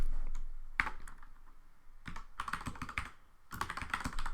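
Typing on a computer keyboard while writing a Python script, with bursts of close keystroke clicks over a faint room hum and no talking.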